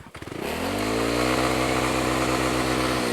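Yamaha Aerox scooter with an UMA/aRacer racing ECU revs sharply after a brief stutter, then holds a loud, steady, buzzing drone close by, pinned against a lowered RPM limit, with no talking.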